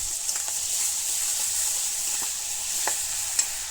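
Cumin, ginger, garlic and garam masala sizzle steadily in hot oil in a pan, with a continuous close frying hiss broken by a few soft stirring scrapes.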